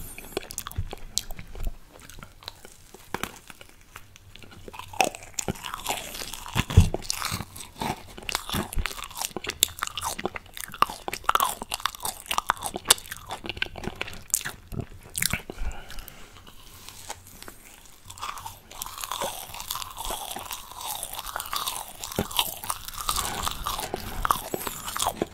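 Marshmallow being bitten and chewed up close in ASMR style, with soft, squishy crunches and wet mouth sounds repeating steadily throughout, fairly quiet and close.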